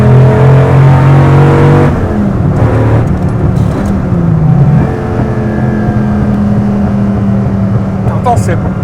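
A Dodge Viper SRT-10 V10 revs loudly up close with a rough, rumbling exhaust note that dips and climbs over several seconds, with brief crackling pops near the end and people talking over it.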